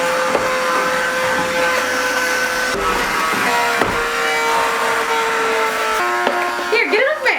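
A small vacuum cleaner sucking up white packing foam during a figure unboxing, a continuous whining drone with bumps and rattles as debris is pulled in, and a voice speaks briefly near the end.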